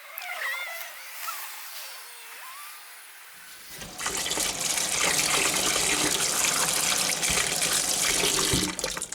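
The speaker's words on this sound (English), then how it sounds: "Give them a bit of a wash just to get any dirt and stuff off of there." Hot peppers are washed under a running tap, the water starting abruptly and gushing loudly and steadily over the produce after a few seconds of quieter background sound.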